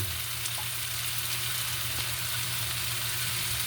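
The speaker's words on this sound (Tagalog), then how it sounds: "Lagyan na natin ang corned beef" Corned beef and diced potatoes sizzle and fry steadily in a hot pan, a continuous close crackle with no talking.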